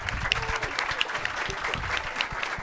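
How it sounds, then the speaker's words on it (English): An audience at a university alumni panel applauds the panelists, a brief, fairly quiet burst of many hands clapping together with a few voices mixed in. "One more round of applause for our panelists."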